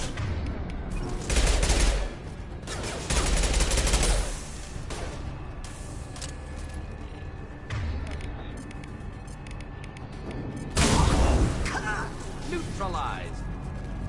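Bursts of weapon fire during combat in Mass Effect 2 Legendary Edition, several loud rattling volleys separated by quieter stretches of ambient battle noise, with voices talking at times between the bursts.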